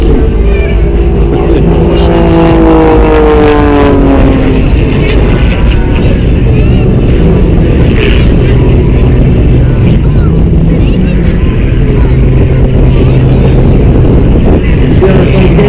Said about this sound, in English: The airplane here as it reaches its vertical and now as it comes to the figure, it's going to move.